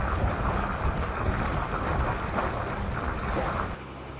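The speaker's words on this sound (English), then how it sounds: "We are about 2 hours and 15 minutes out, cruising at about 6 knots." A trawler cruises at about 6 knots over flat seas on a sunny morning, its low engine drone blending with steady wind and water rush throughout.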